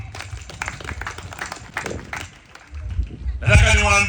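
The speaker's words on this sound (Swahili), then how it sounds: "Makofi mengi sana kwao." Applause breaks out near the end for a street chairman and local citizens, a brief burst of clapping from a crowd following a speaker's voice.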